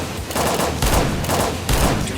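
Sustained automatic gunfire from the submarine game Barotrauma, loud and close, rattling in a dense stream with a few heavier surges.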